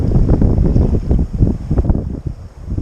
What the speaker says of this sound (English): sea's getting rougher. I'm trying to stay back here with Brian, but I can't even paddle at this point, and the wind's taking me faster than